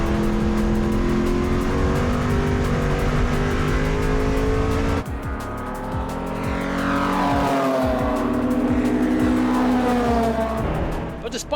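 A 60-year-old Ford Mustang race car runs hard on a circuit during an endurance race, its loud engine revving and shifting, with rising pitch sweeps as it accelerates and a brief dip between gears.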